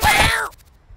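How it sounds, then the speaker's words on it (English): A single drawn-out cat meow in the video game YIIK, loud and close, sliding downward before cutting off into quiet. "I heard a meow near my feet."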